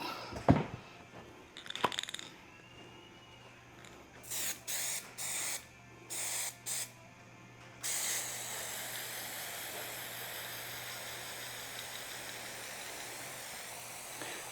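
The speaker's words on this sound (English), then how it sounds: "glue the crap out of this. Just Gorilla Contact Adhesive." Gorilla contact adhesive sprays from an aerosol can onto a custom door panel for a 1964 VW Karmann Ghia: a few knocks, several short hissing bursts, then one long steady spray, close and loud.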